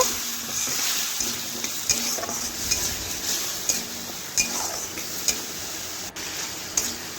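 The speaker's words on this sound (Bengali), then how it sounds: "এইভাবে নাড়াচাড়া করে বেশ কিছুক্ষণ কষিয়ে নেব।" Potato and pointed gourd sautéing with spices in a pan sizzle steadily while a utensil stirs them, adding repeated scrapes and light metallic clinks against the pan.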